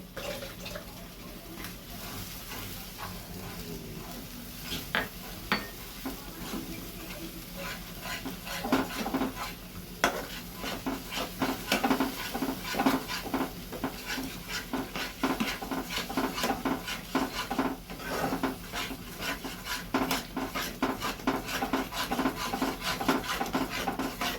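A spoon scrapes and rubs repeatedly against a pan while a kalia curry with sour yogurt is stirred, the strokes turning busier and louder partway through and running on with no talking.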